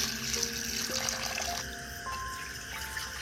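Chicken washed under a running kitchen tap, a steady splash of water into a sink with shifting tones as the flow hits the meat, fairly quiet and continuous.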